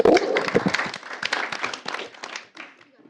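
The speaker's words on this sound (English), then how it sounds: "I'm sorry, we did not clap. Let's clap." A short burst of audience clapping at a school board meeting, a quick patter of hands that starts under a voice and fades out within a few seconds.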